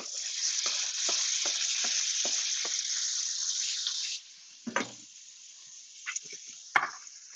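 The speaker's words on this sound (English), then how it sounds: "We're going to go ahead and put the bacon in." Bacon sizzling in a preheated 14-inch Teflon-coated pan, a steady loud crackling hiss with scattered pops and clinks for about four seconds, then dropping to quieter intermittent spatters and taps.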